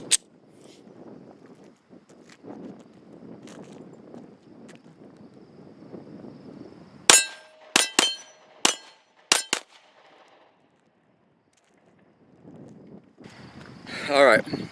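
Five sharp pistol shots from an HK VP9 crack in quick succession outdoors, each ringing off steel plate targets with a metallic clang, after a stretch of wind noise and followed by a brief loud gust.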